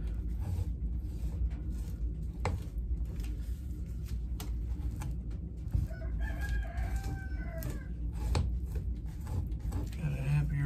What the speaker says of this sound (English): Got a happy rooster.